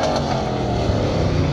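A Pro Truck drag racing truck engine thunders steadily at an NMCA drag race, a loud sustained roar with no pause.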